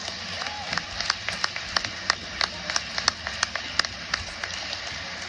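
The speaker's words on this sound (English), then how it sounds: "so give yourselves a round of applause" An audience claps at an athletic awards speech, with sparse, uneven, fairly quiet applause of scattered individual claps over a low room murmur.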